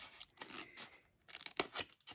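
Scissors snip a paper glue tab for a scrapbooking candy-holder pencil craft, with several crisp, close cuts in quick succession and short pauses between them.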